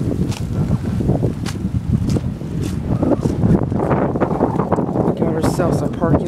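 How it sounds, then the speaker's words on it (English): Strong wind gusting outdoors near an old railroad track, a loud rushing roar buffeting the microphone with irregular bursts, accompanied by occasional footsteps and light handling noise. "Right now it's getting very windy."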